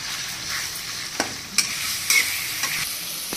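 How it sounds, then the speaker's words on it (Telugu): Garam masala paste is stirred as it fries in a pan for mutton ghee roast, giving a steady close sizzle broken by a few sharp scrapes and clacks of the spoon. "ఇప్పుడు ఇది దీంట్లో వేసేస్తున్నాను. ఇప్పుడు దీన్ని కలిపేసుకుందాం."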